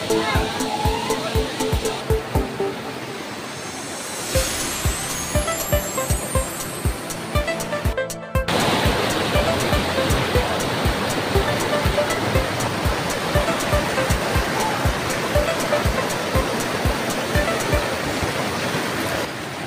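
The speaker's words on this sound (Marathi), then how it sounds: "फक्त पाण्याचा खळखळण्याचा आवाज" Bhivpuri waterfall near Karjat, gushing water roaring as a dense, steady rush that fills the whole scene, loud and close, with a brief dropout partway through.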